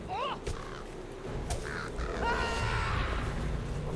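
A crow in the online game Lord of the Rings Online (LOTRO) gives several harsh, raspy caws spread across a few seconds over steady background ambience.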